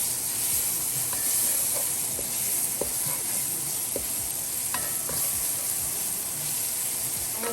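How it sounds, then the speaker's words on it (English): Garlic browns in a pan for collard greens with ham, a dense continuous hiss and sizzle close up, with a few faint utensil taps scattered through it. "Let your garlic brown like me."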